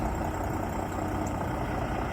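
Diesel engine of a Pierce pumper fire engine idling outdoors, a steady, continuous low rumble with a broad even drone that holds at a constant level throughout.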